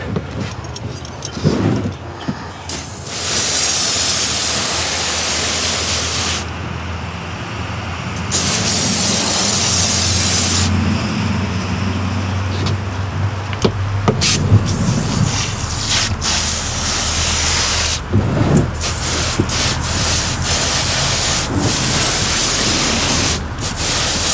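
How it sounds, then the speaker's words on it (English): Water sprays hard from a hose to rinse a boat's non-skid deck after cleaner has been applied. The loud, broad hiss runs in long bursts that rise and fall, with brief drops between passes and no talking. "so we're gonna give it a quick rinse"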